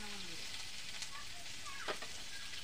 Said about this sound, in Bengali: এই পাশে পাশে আমি ভালোভাবে ভাজে নিচ্ছি।